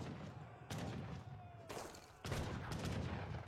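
Cannons fire in a strategy video game as a few sharp, heavy booms spaced about a second apart, each trailing into rumbling noise.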